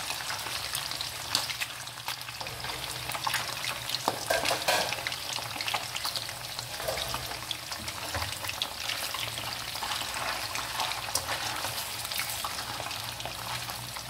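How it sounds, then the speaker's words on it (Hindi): Fish frying in hot oil for a restaurant-style fish karahi, a loud, constant crackling sizzle with dense spattering throughout and no talk. "पहले हम फिश को फ्राई कर लेंगे"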